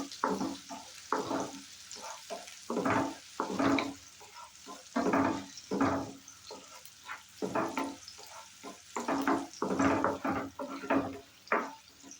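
Onions sizzling and frying in a pan for dal fry, steady crackle with repeated stirring bursts, close and fairly loud, no talking.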